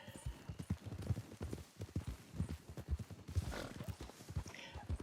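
Horse hooves in a video game, a Missouri Fox Trotter: rhythmic clip-clop footfalls at a steady trotting pace, fairly close and moderately loud, with a brief whinny-like snort amid the movement.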